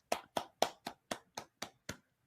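A small round of applause, heard as eight slow, evenly spaced hand claps from a single nearby clapper, each one crisp and distinct.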